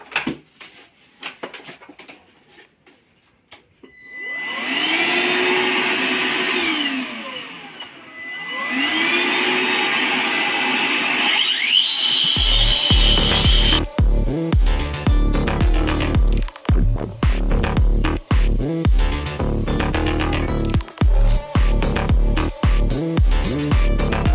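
A Metabo CED 125 wall chaser motor whines and spins up twice, then a loud, steady grinding roar of its blade cutting grooves into a masonry wall runs continuously, close by.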